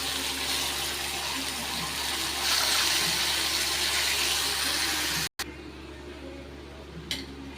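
Tamarind water pours steadily into a pan for tamarind poha, a continuous close splashing gush that cuts off abruptly near the end, leaving quieter kitchen sounds.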